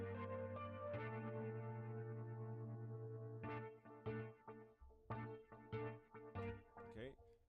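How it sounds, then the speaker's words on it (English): A sustained synth-like note gives way to plucked notes, each echoed by quick rhythmic repeats from an eighth-note delay effect, played alone. "It's just doing a delay, an eighth note delay"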